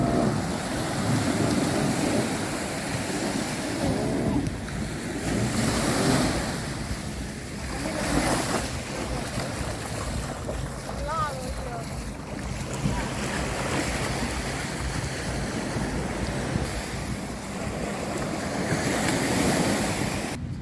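Continuous surf rolls in on busy Patong Beach in Phuket, a steady broad wash of waves with wind noise and faint distant beach activity throughout.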